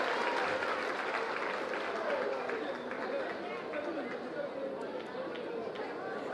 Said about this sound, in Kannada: ತಾವೆಲ್ಲರೂ ಕೂಡ ಒಂದು ಜೋರಾದ ಚಪ್ಪಾಳೆ